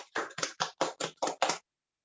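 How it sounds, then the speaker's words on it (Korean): Seven quick, evenly spaced claps ring out at a product presentation, crisp and close, then stop into silence. "우리 박수로 시작하겠습니다."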